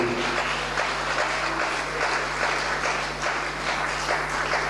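A church congregation applauds during a sermon, a steady, dense wash of clapping that holds at an even level throughout, with no voice rising above it.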